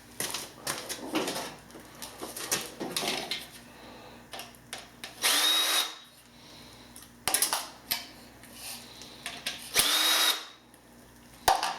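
A power drill backs screws out of a Pace digital receiver, with repeated short whirring bursts, some rising in pitch, separated by pauses and small clicks of parts being handled, close and loud.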